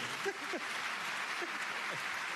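An audience claps in a steady, even wash under a few faint voices that murmur and call out briefly. The clapping stops abruptly at the end.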